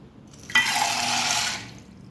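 Water gushes into a bowl holding a cup of chickpeas set to soak for a traditional pickle, one short, steady pour lasting about a second before it tails off.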